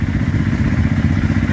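A motorcycle stuck in mud on a rough, broken road, its engine revving loud and close with a rapid, uneven throb and clatter, no voices.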